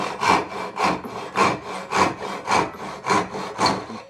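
A handsaw cuts through a wooden tenon in steady back-and-forth strokes, about two per second, each one a close, loud, rasping scrape with no talk.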